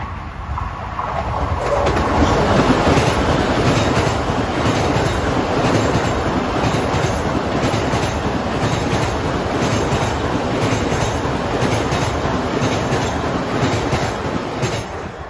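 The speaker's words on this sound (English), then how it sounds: "Train that passed by before it was 2352, New York Farmingdale." A Long Island Rail Road commuter train rumbles past close by at Elmont station for the whole stretch, a steady loud roar of rolling wheels with a faint rhythmic clatter and occasional metallic squeal.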